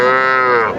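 A single loud, close moo from cattle at Aftabganj livestock market, where small bulls and heifer calves are traded, sustained and steady before it tails off.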